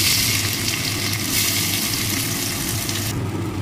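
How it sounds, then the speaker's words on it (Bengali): Chopped onions sizzle steadily in hot oil in a wok after a cumin seed tempering, a loud continuous frying hiss with no talking. "এবার পেঁয়াজগুলোকে আমি একটু ভালো করে ভেজে নিচ্ছি"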